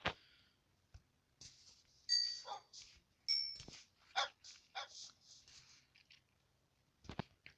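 Dogs in a video game bark and yip in short, scattered bursts, fairly clear against a quiet background, with several separate barks spread across the stretch.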